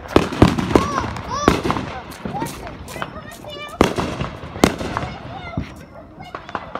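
Fourth of July fireworks burn in a street, with rapid crackling pops, sharp bangs and whistling fizzes bursting irregularly and close by, while people talk over the noise.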